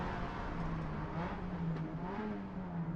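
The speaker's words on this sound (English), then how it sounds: "You can hear these cars just clawing for grip as we're going for throttle" Race cars roar as engines rev and accelerate side by side, a continuous droning whine rising in pitch over a steady rumble.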